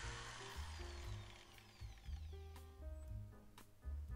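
Drilling through softwood, a Ferrex 610W impact drill whines in short, uneven bursts as the motor speed rises and falls, with a faint steady hum between them.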